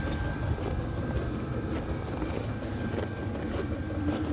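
Diesel heater for a rooftop tent running steadily in the cold, a constant low hum with a faint thin whine above it, unbroken and moderately loud throughout.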